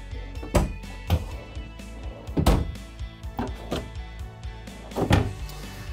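Privacy door in a 2023 Thor Motor Coach Windsport 34A motorhome sliding along its track, a series of rolling rattles with several louder thunks and knocks at irregular intervals, close and fairly loud, no talking.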